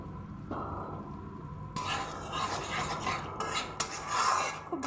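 Stirring and scraping in a pan as new potatoes are sautéed with Kashmiri chilli powder, salt and turmeric, close scrapes and clinks of the utensil against the metal, growing busier after a soft start.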